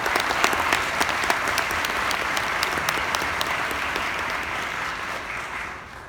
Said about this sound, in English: I want you all to give yourselves a round of applause for all we've been able to accomplish.